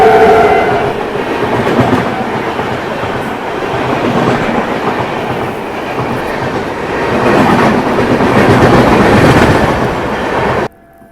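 A train rolls past a railway crossing with steady, loud wheel clatter and a continuous rumble that swells toward the end before cutting off abruptly.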